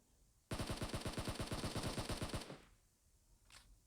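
Automatic gunfire in PUBG Mobile: a loud, rapid burst of about two seconds of evenly spaced shots that cuts off sharply, followed by one faint distant shot.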